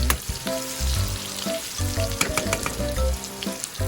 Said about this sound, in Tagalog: Ayan, gigisa lang natin yan guys. Ayan, ihalo natin ang karne-karne.